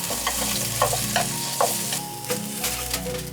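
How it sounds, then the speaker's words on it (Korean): Vegetables are stir-fried lightly in a hot pan for kimbap filling, with a close, steady sizzle. Spatula scrapes and tosses sound against it at irregular intervals, and no one speaks. "이렇게 살짝 볶으면 더 새파래지니까 살짝 볶을게."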